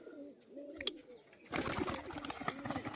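Pigeons of a crested breed coo softly in short repeated phrases, then a louder burst of rustling and flapping wings takes over near the midpoint.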